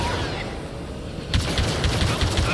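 Heavy gunfire from big guns in Star Wars Battlefront 2, a loud steady barrage that swells into rapid repeated blasts halfway through, over constant battle rumble.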